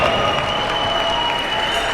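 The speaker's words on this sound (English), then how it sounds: "another big round of applause for our 2016" Steady, dense applause from a crowd at an ice sledge hockey medal ceremony at a rink in Buffalo, a continuous even wash of clapping that fills the whole stretch without letting up.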